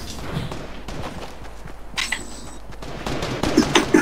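Gunfire in the Fortnite video game comes as rapid bursts and scattered single shots, mixed with footsteps and thuds, and grows louder toward the end of the short stretch.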